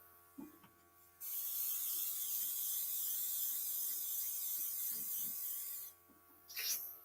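An airbrush spraying paint gives a steady, close hiss that runs for about five seconds, with faint handling taps before and after.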